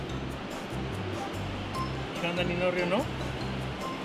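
Waves on a beach in Panama, a steady washing surf under a voice calling out briefly.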